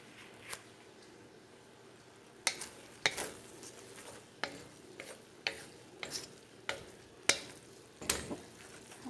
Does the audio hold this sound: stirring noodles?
yes